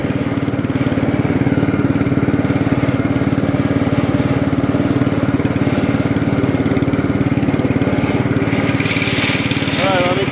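A Bolens 13.5 hp lawn tractor engine with a 38-inch deck idles nearby, giving a loud, steady, even putter throughout with no change in speed.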